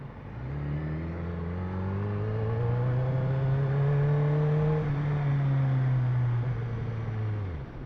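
A car passes on a road, its engine hum rising, holding steady, then falling away over several seconds, fairly near and with no voices.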